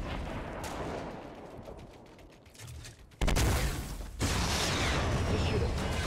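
Fortnite match gunfire: muffled, rumbling bursts of shots and booming impacts, jumping suddenly louder partway through into dense, chaotic firing, mixed with game noise.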